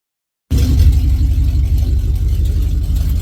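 Engine exhaust through a homemade welded muffler, a steady, loud, deep rumble that starts abruptly and holds even without revving, smooth rather than raspy.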